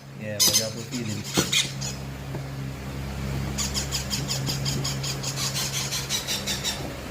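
Baby green-cheeked parrots, including pineapple and fallow color types, give repeated high squawks and chirps while being hand-fed, with a sharp burst early on and a steady stream of squeaky calls in the second half over a low background hum.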